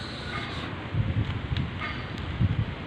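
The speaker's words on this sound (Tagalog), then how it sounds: "ihip ng hangin." Strong wind blowing through a garden of star apple and Indian mango trees, a steady rushing roar with gusty swells and buffeting against the microphone, continuous and close, with no voices.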